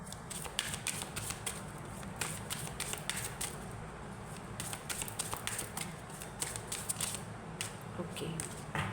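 Tarot cards being shuffled during a Hindi reading, producing a repeated soft riffling flutter with quick papery taps at a steady pace under someone speaking.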